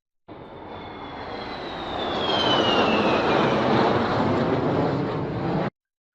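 A crop-spraying aircraft passes over farmland with a steady, loud engine drone that swells as it nears and stays strong before cutting off abruptly, with wind rushing across the microphone.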